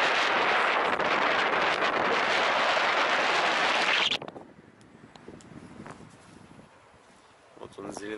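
Strong wind on a 24-metre-high observation deck in Zelenogradsk buffets the microphone in a loud, roaring gust for several seconds, then drops to a quieter whoosh before picking up again.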